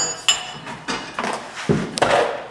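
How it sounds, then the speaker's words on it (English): Several sharp metallic strikes at irregular intervals, a hammer hitting a metal spoon against metal, each blow ringing briefly before the next. "take my spoon, take my heavy hammer,"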